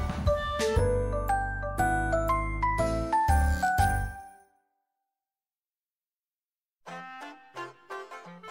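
A bright tinkling chime cue marks a page turn in a children's read-along story: a run of bell-like notes for about four seconds, a pause of silence, then a shorter, fainter jingle near the end, with no talk.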